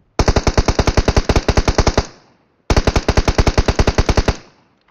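Automatic gunfire in a video game fight: two long rapid bursts of evenly spaced loud shots, each lasting about two seconds, separated by a short gap, with no talk.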